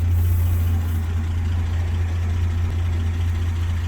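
A 1974 Dodge Dart with a Slant 6 engine and a light muffler idles steadily, a close, even low rumble that holds for the whole stretch with no talk.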